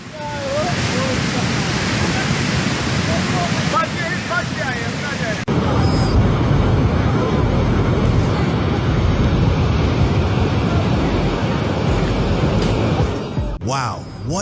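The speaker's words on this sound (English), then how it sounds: "In India, raging floodwaters swallow a bus and sweep it away" Raging floodwaters in India sweep a bus away, a loud and steady roaring wash of rushing water that fills the scene throughout, with voices faintly audible beneath the torrent.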